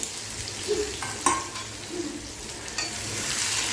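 Chopped onion with garlic and ginger sautés in a pan, a soft sizzle running underneath while a utensil stirs and scrapes a few times against the cookware.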